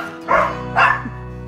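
Big Belgian-breed dog barking twice in quick succession, loud and close, with deep full-bodied woofs and a short pause between them.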